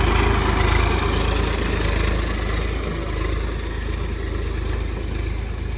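A tractor engine idles on a farm with a steady low rumble and continuous mechanical drone, holding even and fairly close throughout with no talk.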